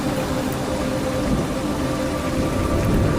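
Steady rain falls in a continuous, dense hiss, fairly loud and close, with a low rumble underneath and no voices.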